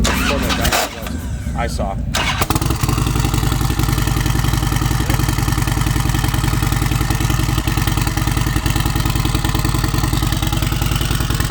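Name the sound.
turbocharged Harley-Davidson Softail V-twin motorcycle engine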